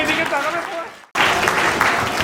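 Audience applause at a scholarship award ceremony in the Sundarbans, a sustained burst of clapping from a crowd that breaks briefly and then resumes at full strength.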